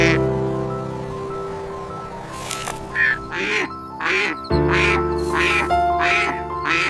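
An injured duck gives a run of about six short, clear quacks in quick succession, close by over a low steady background hum.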